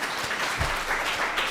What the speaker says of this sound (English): can I hear some applause for that?